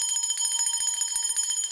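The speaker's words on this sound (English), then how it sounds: "especially when I rang the bell" A small bell is rung rapidly and continuously, a bright metallic trill of fast repeated strikes with sustained ringing tones, close and alone.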